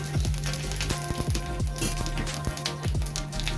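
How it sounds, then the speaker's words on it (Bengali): Cumin seeds hit hot oil left over from frying singi fish and sizzle steadily up close, a dense crackling hiss with quick spitting pops and a faint underlying hum, and nobody speaks. "এই তেলেই আমি জিরে ফোড়ন দিয়ে দিচ্ছি।"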